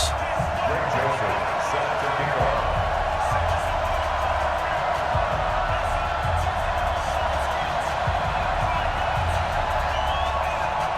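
Dense stadium crowd noise from a Madden NFL 20 football game between the Green Bay Packers and the Chicago Bears, a steady roar of cheering that holds level and loud throughout with no talk.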